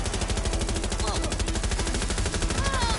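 Rapid, continuous automatic gunfire from the video game Outriders, loud and near, with steady rattling bursts over a busy battle mix.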